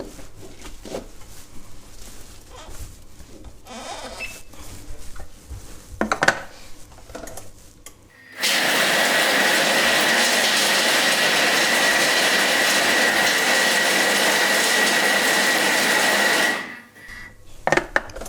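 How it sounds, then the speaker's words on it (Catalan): A kitchen blender pulverising a gluten-free traditional Christmas dessert mixture, roaring loudly and steadily for about eight seconds after some quiet handling clatter, then winding down abruptly. "però ara és triturar"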